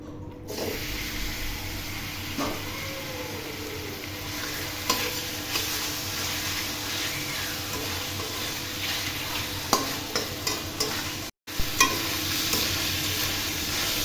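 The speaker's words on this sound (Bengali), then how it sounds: "এবার আমি চিকেনটা ভেজে নেব" Chicken frying in a pan, a continuous sizzle with stirring scrapes and occasional sharp clicks of a utensil against the pan, close and fairly even throughout, briefly cut out near the end.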